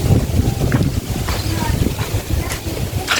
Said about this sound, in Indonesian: Angin ini kayak gini loh.